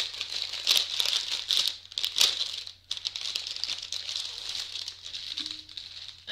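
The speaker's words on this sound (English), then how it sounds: "apologies for the crinkling." Packaging crinkles and rustles continuously close up, bursts of crisp crackling rising and falling over several seconds as a cross-stitch thread packet is handled, with a faint low hum underneath.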